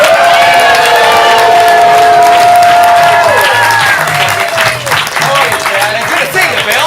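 A live comedy-sports audience shouts, cheers and applauds in a loud, sustained roar as two team captains take the field, with whoops over the crowd noise before it tapers slightly.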